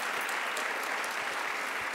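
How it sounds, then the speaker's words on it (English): A conference audience applauds an honoree, many hands clapping in a dense, steady patter at moderate loudness throughout. "Let's give her a round of applause"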